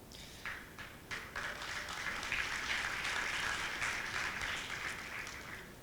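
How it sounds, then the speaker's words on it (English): Applause from a conference audience at an Angular talk, a few scattered claps swelling into sustained clapping that fills the room, heard from a distance with no voices. "I think it's like the most applause I've ever got"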